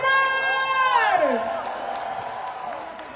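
A large crowd cheers and applauds at a motivational business event, with a loud whooping voice sliding downward over the top before the cheering and clapping carry on more evenly.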